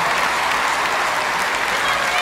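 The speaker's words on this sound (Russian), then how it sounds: "аплодисменты!" Audience applause at a live concert performance, a dense, steady roar of clapping from a large crowd, loud and continuous throughout.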